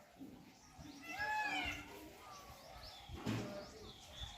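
Birds coo softly at a temple, a pigeon or dove giving a few low murmuring calls with some higher chirps, fairly faint and distant, with a soft voice briefly audible.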